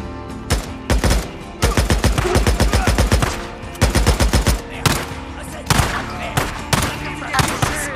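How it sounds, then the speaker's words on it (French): Rapid bursts of automatic gunfire crackle in repeated volleys with single shots between, loud and close, in a battle soundscape from the video game Days Gone. "Plusieurs coups de feu ont été tirés."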